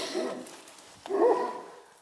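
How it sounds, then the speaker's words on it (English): A Central Asian shepherd puppy gives two low, short barks about a second apart, close and fairly loud, with a slight whimpering tone. "who are you barking at?"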